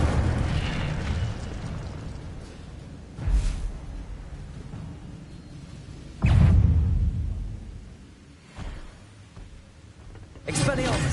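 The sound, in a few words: Incendio fire spell cast in Hogwarts video game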